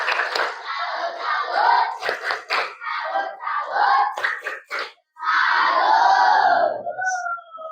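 Primary school class, Grade 5 religious education lesson, performing the 'tepuk salut' clapping chant: a group of children shouting and clapping in rhythmic bursts, loud and close, with a brief pause before a final sustained group shout.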